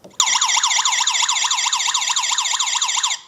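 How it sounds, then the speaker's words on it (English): Steadfast plug-in carbon monoxide detector sounding its self-test alarm: a loud, piercing electronic tone that warbles rapidly and continuously at close range, cutting in abruptly and running without pause. "So as you can hear that is 85 decibels of an alarm sound."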